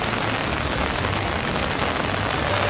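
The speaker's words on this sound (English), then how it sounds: "the rain that's coming down right now" Heavy rain falls at Disneyland, a dense, steady hiss of drops pattering on surfaces that fills the whole stretch without a break.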